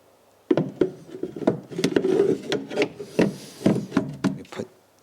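A race car seat being fitted into a Formula Konick car during a rebuild, heard as repeated knocks, scrapes and rubbing thumps that come in uneven bursts, close and moderately loud.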